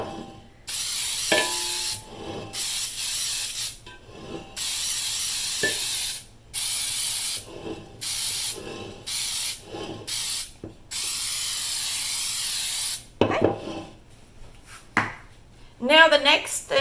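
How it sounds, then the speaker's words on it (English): Baker's Joy flour-containing baking spray hisses from an aerosol can into a Bundt pan in a series of short bursts with brief gaps between them, close and fairly loud, with a few small clanks near the end. "spray it with a baking spray that has flour in it"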